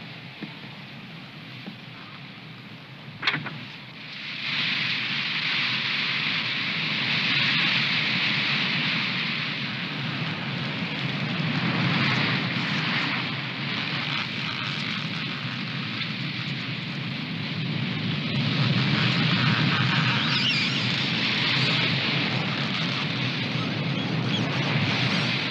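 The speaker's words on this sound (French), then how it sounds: "Ça, ce sont les sapins que le vent secoue." Wind shakes fir trees in the Alps, a steady, dense rushing roar that swells and eases in long surges after a brief sharp knock near the start, with no voices.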